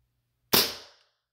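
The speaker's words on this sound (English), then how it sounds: "this Calico Jack M9 by WeTek is shooting" A single sharp crack from a Calico Jack M9 gas airsoft pistol by WeTek, close and loud, with a quick decaying hiss afterward and silence around it.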